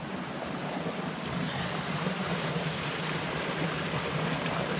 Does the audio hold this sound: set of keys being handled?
no